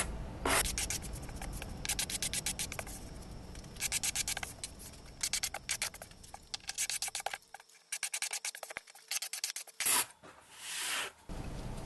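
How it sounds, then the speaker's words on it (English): A card scraper shaves across a walnut coffee table top in repeated rasping strokes, each a short scratchy burst, with brief pauses and a quieter gap near the end. "I scraped across the entire top"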